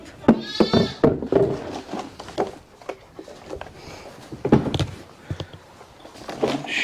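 Sheep bleating on a farm with a water trough nearby, short nasal calls repeating near and fairly loud, mixed with brief clunks and people talking around them.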